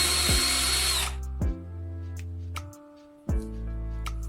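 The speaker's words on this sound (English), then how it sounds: "drill a small hole closer to the end of the pipe" A power drill boring a small hole near the end of a narrow plastic pipe, with a loud steady whine that cuts off, followed by several short spin-ups with clear motor tones.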